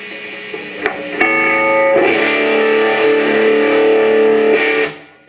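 An electric guitar played through a DIY clone of an MXR Distortion+ pedal with the distortion turned up: two sharp picked hits, then a loud sustained distorted chord ringing for about three seconds before cutting off.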